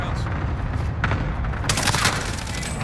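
Small-caliber gunfire in Call of Duty: Modern Warfare, a dense volley of shots and booming impacts that swells louder toward the end, with a voice speaking over it.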